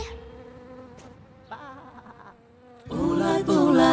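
Buzzing bee sound effect in a children's song, a thin steady hum that grows louder and fuller toward the end, with no singing over it.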